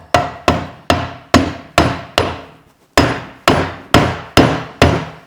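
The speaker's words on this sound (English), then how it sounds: "Use a rubber mallet." Rubber mallet knocking a tight-fitting black chair base down into its seat, eleven sharp, loud, evenly spaced thumps with a brief pause in the middle, no talking.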